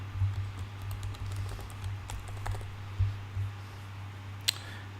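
Quiet clicks of text being typed on a computer keyboard in a web design session, irregular soft taps close up over a steady low hum.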